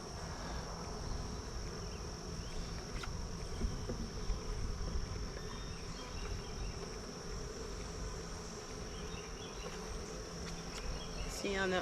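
Honey bees buzz around an opened queenless hive on a homestead, a steady faint hum of many insects, with only brief light sounds over it.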